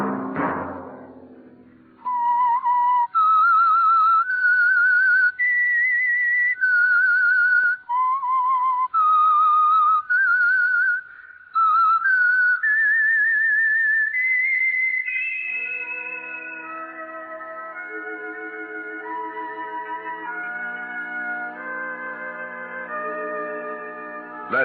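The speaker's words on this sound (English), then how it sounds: "Let that whistle be your signal for the Signal Oil program" A clear whistled melody, the vintage radio theme of The Whistler, rises in a sequence of sustained notes, then an orchestral passage of layered tones takes over and continues quietly.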